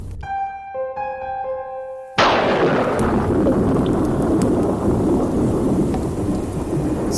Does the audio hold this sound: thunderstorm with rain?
yes